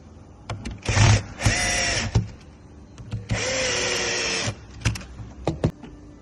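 A powered screwdriver or drill drives screws into a washing machine cabinet panel during assembly, in several whirring bursts of a second or so each, close and fairly loud, separated by short pauses and small clicks, with no talking.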